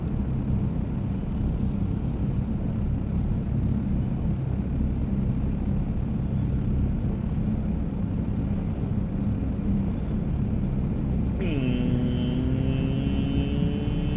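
Aircraft engine droning steadily at a distance as an ornithopter takes off and flies around an airport, then a rising engine whine surges louder near the end as it climbs away.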